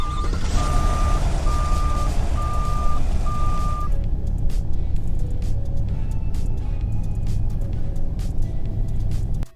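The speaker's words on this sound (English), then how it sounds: "All right, so here's the startup on it. Let's start it up." A video-game SUV in Roblox Greenville starts up: a steady engine drone runs throughout, with a repeating reversing-style beep over the first few seconds and scattered clicks afterwards.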